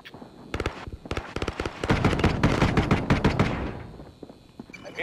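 Gunfire rattles in Call of Duty: Modern Warfare, with sharp rapid bursts of automatic shots that start sparse, then build into dense overlapping volleys before thinning out, loud and close, without speech.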